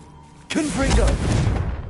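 Confringo blasting spell cast in Hogwarts Legacy on PS5: a sudden loud blast after a quiet moment, followed by a rumbling burst with whooshing, warbling tones that sustains to the end.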